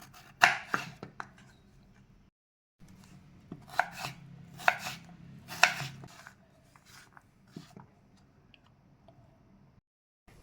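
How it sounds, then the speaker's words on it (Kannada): Vegetables are cut lengthwise with a knife on a board for bisi bele bath, producing close, crisp chopping taps in quick bursts separated by short pauses, with no talking. "ತರಕಾರಿಯನ್ನು ಬಿಸಿಬೇಳೆಬಾತಿಗೆ ಉದ್ದ ಹಚ್ಚಬೇಕು"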